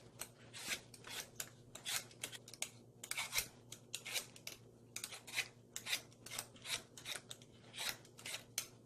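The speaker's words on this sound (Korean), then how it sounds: "자, 배를 이렇게 강판에 갈아야 되는데" A fresh pear is rubbed over a hand grater to make juice for water kimchi, giving steady rhythmic rasping strokes, close and fairly quiet, with no talk.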